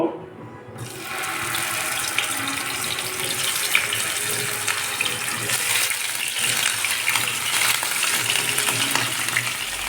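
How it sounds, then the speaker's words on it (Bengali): Pieces of rohu fish coated in salt and turmeric fry in hot mustard oil in a wok, giving a loud, steady, crackling sizzle that starts abruptly and continues without a break. "এখন মাছগুলোকে ভেজে নেব"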